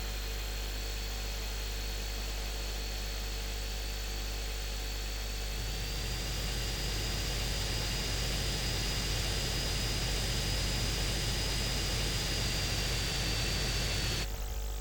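Jet aircraft in GTA San Andreas gives a steady, loud engine roar with a high whine that swells partway through and stays constant, with no talking over it.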